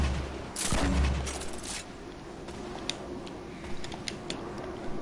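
Gunshots in a Fortnite battle royale match, a loud burst of rapid shots near the start followed by scattered fainter distant pops and ticks over a low game ambience.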